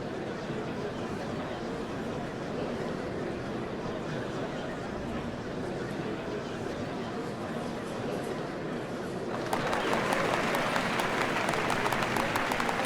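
A large crowd of onlookers cheering and murmuring at a ceremony in the video game Final Fantasy XIV, a steady dense roar of babble that swells into louder, brighter applause near the end, with no clear speech standing out.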